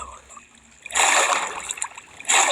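Water splashing in a Minecraft game, a burst of bright splashy noise that swells for about a second and a half, eases off, then surges again near the end, heard up close with no talk over it.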